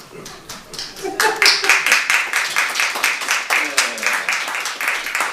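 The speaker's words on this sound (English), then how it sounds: "Still got applause" Applause at a county commissioners' work session, starting as a few scattered claps and then swelling into a steady, rhythmic round of clapping from a small room of people, with faint talk behind it.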